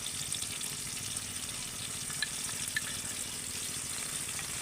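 Green chillies fry in hot oil with a soft, steady sizzle and faint crackles, quiet and continuous, with no voices.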